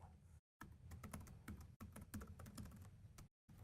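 Rapid typing on a computer keyboard during a live software development talk on stage, a quick run of close, crisp key clicks broken by two brief pauses.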